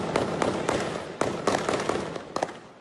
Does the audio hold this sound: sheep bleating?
no